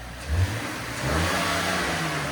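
A 2025 RAM 1500 pickup's 3.0L twin-turbo Hurricane inline-six with straight pipes revs up and holds at a steady, loud drone with a throaty low rumble, heard up close with no talking.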